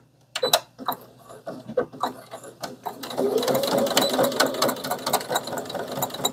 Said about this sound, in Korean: 요거는 좀 이제 두꺼운 느낌이 나니까 미싱 바늘 소리가 벌써 틀리거든요